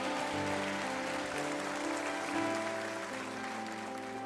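A church congregation at a Wednesday evening service claps together in sustained, dense applause that continues evenly throughout at moderate volume, with no talking over it.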